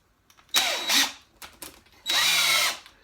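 A DeWalt 18-volt cordless drill in drill mode whirs in two bursts, the second longer and steady, with short trigger blips between, close and loud.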